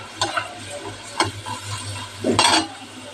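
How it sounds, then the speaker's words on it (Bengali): Spiced corn frying in a pan gives a steady soft sizzle, with three separate scraping bursts of stirring spaced about a second apart. "এবারে একটা একটা করে ভাজবো আমি, কিছু কিছু অল্প অল্প করে"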